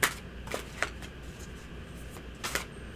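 Tarot cards being shuffled by hand close by, a few quick riffling bursts with short pauses between them.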